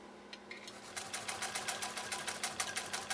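A 1928 Singer 66-6 sewing machine, restored after fire damage, stitches through fabric with a quick, even rhythmic clatter that begins after a brief quiet moment and continues steadily at close range.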